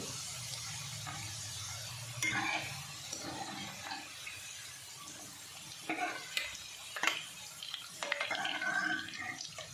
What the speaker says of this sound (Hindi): पहले आलू भी हम शेलो फ्राई होंगे